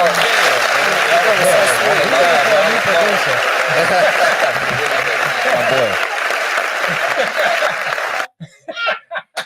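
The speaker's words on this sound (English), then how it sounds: "Good applause" Loud, dense applause from a radio show audience fills the room for about eight seconds, with scattered laughter mixed in. It stops abruptly, and brief voices follow.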